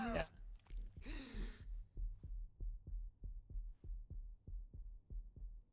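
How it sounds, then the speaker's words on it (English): A steady heartbeat from the video game Final Fantasy XVI thuds low and regular, about two beats per second, after a brief breathy sigh and some vocal sounds at the start. "I hear his heart beating."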